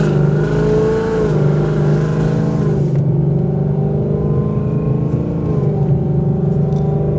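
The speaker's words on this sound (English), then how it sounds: "we're gonna do a couple pulls here with it and see how it does" A Whipple-supercharged 2018 Ford Mustang GT pulls hard, its loud V8 engine note climbing under heavy throttle, then shifting and settling into a lower steady drone, heard from close range with no talk.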